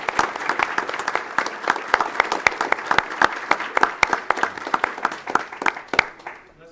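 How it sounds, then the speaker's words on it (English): A school board meeting audience applauds for students' families and teachers, a loud crowd of many hands clapping at a brisk, uneven rhythm with sharp individual claps standing out, before fading away at the end. "Let's give them a round of applause for their support."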